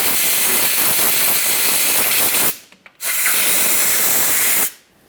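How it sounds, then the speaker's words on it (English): Compressed air blasting debris off a rear air spring on a Jeep Grand Cherokee, two loud, steady hissing bursts close by, the first about two and a half seconds long and the second about two seconds, split by a brief gap. "We'll just use some compressed air for this."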